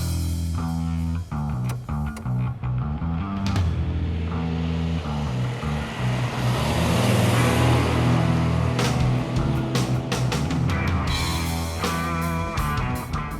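A classic sports car engine, a 1955 Mercedes 300SL Gullwing or 1960 Ferrari 250GT, idles, then revs up and roars louder as the car pulls away, with some clunks and rattles near the end.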